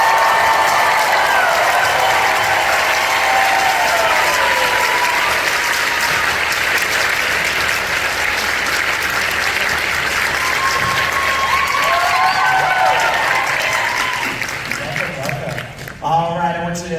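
Convention panel audience applauding and cheering loudly and continuously, with whistles and whoops over dense clapping that thins out near the end as a voice comes in.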